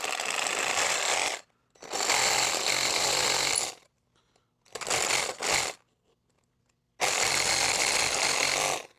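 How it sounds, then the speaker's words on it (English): A Sawzall reciprocating saw cuts through metal near a car starter in three loud, buzzing bursts of roughly two, two and three seconds, with a short stuttering burst in between and near silence in the gaps. "We're gonna Sawzall through here."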